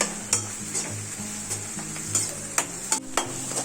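Onions frying in a pan with salt added, steady sizzle under repeated scraping stirs and light clinks of a utensil against the metal, close and alone.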